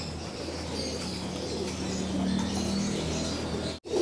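Pigeons coo softly inside a loft, low murmuring calls over a steady background hum, with a brief dropout near the end.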